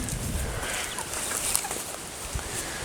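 Clucking from a large male broiler chicken in a flock, low and intermittent against steady background noise, with no talk over it.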